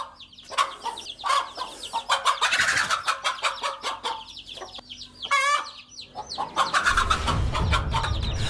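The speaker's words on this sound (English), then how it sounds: "a very aggressive hen rushes to attack the enemy to protect the young ones" An aggressive mother hen clucks and squawks while fighting off a cobra to protect her chicks, with bursts of agitated cackling and other fowl calling nearby, fairly close.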